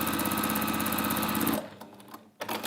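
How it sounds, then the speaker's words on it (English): A sewing machine runs a fast, steady straight stitch, close and loud with a rapid regular chatter, then stops abruptly and is followed by quieter handling noise and a brief restart. "this is where I'm very grateful for a machine that just does straight stitch"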